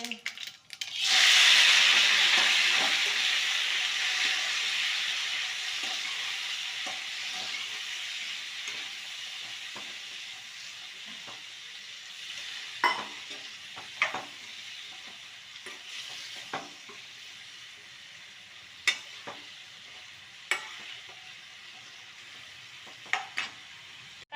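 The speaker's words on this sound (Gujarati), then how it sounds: "રાઈ જીરું મેથી નાખીએ રાઈ તતળી ગઈ છે" Mustard seeds, cumin and fenugreek hit hot oil with a loud, hissing splutter that slowly fades into a softer sizzle. Scattered pops and clinks of a spoon against the pan come later as the spices crackle on.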